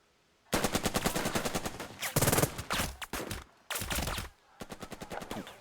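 Gunfire in the strategy video game Burden of Command, heard as dense bursts of rapid machine-gun and rifle shots in several volleys separated by short pauses, loud and with no talking.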